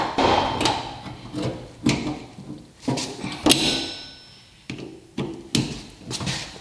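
A hammer strikes a screwdriver against a metal locking gas cap in sharp, irregular blows, about nine in all, each a crisp clank with quiet pauses between.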